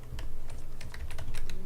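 Rapid, irregular clatter of keys being typed on a computer keyboard, close and fairly quiet, a quick burst of taps lasting under two seconds.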